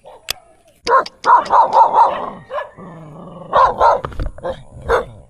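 A dog barks repeatedly in quick bursts, close by at Lumot Lake, with a few growly yips mixed in and a short pause midway.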